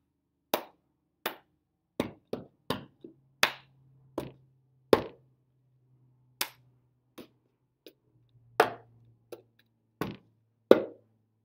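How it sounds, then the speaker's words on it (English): Sharp hand claps strike in a steady rhythmic pattern for a clapping routine, single claps spaced about half a second to a second apart, with brief pauses and a low hum underneath. "Clap, clap, one, two, three."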